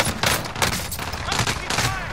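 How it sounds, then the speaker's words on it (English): Dense gunfire in a Call of Duty Warzone battle, loud bursts overlapping in quick succession with a voice calling out over the shooting. "I'm taking fire!"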